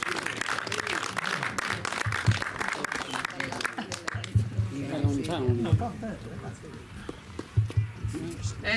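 At a poetry and song event, the audience claps in a lively burst that fades after a few seconds as a voice begins speaking over the dwindling applause.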